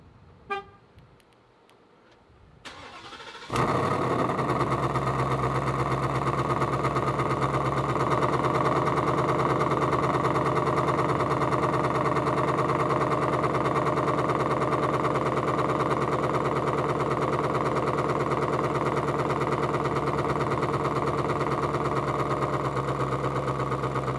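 A 2019 Roush Stage 3 Mustang fires up from cold with a loud roar, then settles into a steady, deep, throaty idle that runs on unbroken, after a few faint clicks and a brief quiet moment before the start.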